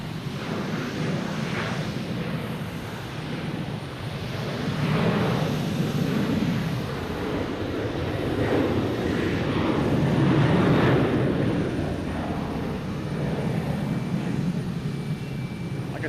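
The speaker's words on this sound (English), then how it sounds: "next to take off, we have an Alaskan Airlines heading to San Diego." An Alaska Airlines Boeing 737-900 bound for San Diego takes off from Boston Logan on an evening, its engines giving a steady broadband roar that swells and holds for the whole stretch, without speech.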